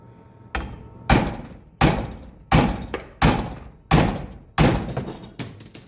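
A hammer pounds on a stuck water pump on an International pickup, seven loud, sharp metallic blows landing roughly every half to one second, each with a short ringing decay, close up and with no speech.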